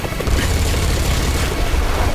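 Dense, loud gunfire from the fighting game Tekken 8, a continuous roaring barrage of shots and booms with no breaks, filling the whole moment with heavy low rumble.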